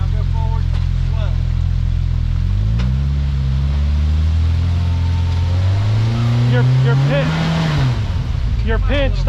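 A Can-Am off-road vehicle creeping over a rock crawl trail, its engine droning low and rising in pitch as it revs, close and loud, with people talking over it.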